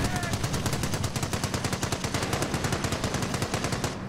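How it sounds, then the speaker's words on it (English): Rapid machine-gun fire rattles in an even, fast rhythm during a battle at a base in the Company of Heroes video game, loud and continuous until it stops abruptly near the end. "Base is taking fire."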